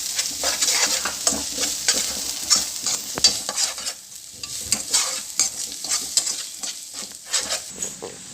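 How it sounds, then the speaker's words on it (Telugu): Crispy fried corn mixture is stirred in a hot pan, with continuous sizzling broken by repeated close scraping and tossing strokes throughout. "వేసి బాగా కలుపుతామండి"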